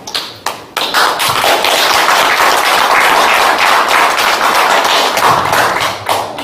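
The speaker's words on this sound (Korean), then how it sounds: "박수를 치신 것에 힘입어서" Audience applause at a lecture hall event, opening with a few sharp claps and then building into dense, sustained clapping from a large crowd that tapers slightly near the end.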